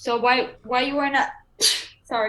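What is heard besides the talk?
sneeze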